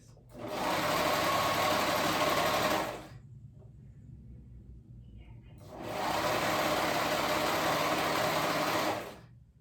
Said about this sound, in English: So I'm gonna go ahead and sew around that hem.